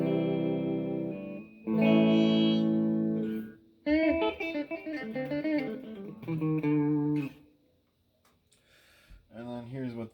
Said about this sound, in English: here's what the middle pickup sounds like